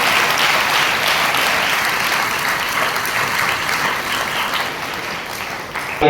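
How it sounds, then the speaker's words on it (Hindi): A church congregation at a Thanksgiving Mass claps in thanks, a loud, dense wash of many hands that carries on evenly without letup, close and full. "हम और एक बार ताली बजाते हुए धन्यवाद करते हैं।"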